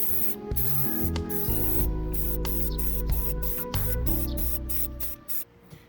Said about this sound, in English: we'll go spray paint this first